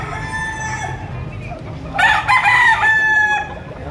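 Rooster crowing at a poultry market in Padre Garcia, Batangas, one loud, close drawn-out crow rising over a background of clucking and faint talk.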